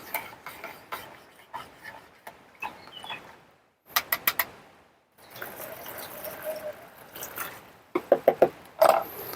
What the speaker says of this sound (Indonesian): Kita aduk.